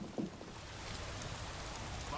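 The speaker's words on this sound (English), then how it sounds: "I could do without this damnable rain." Steady rain pours down in Elder Scrolls Online in Grahtwood, a dense, even hiss that holds without pause, with a faint low thump near the start.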